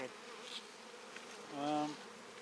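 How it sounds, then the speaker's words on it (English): Honey bees buzz around an open hive holding many old, dark bees during a spring hive check, a soft steady hum that swells briefly louder near the end, with no talking. "got a lot of old bees in here though too"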